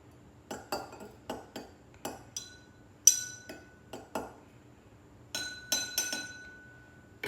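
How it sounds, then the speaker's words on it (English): A stirring rod or spoon clinks against lab glassware while a titration solution is mixed: a dozen sharp, ringing taps in uneven bursts, close and clear, with no talking. "Now we're gonna give that a little whisk."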